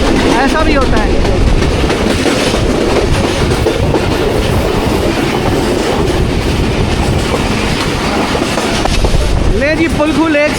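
Pakistan Express 46 Down rolls through rainy early morning near a lake on the Rawalpindi to Wazirabad run, a loud steady rumble and rhythmic wheel clatter throughout, with faint voices briefly at the start and end.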